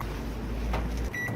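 A microwave oven heats food with a low steady hum, fairly quiet, then a brief series of high electronic beeps near the end.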